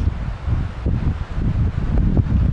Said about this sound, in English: as you could hear, it's still a windy day, so lots happening out on the lake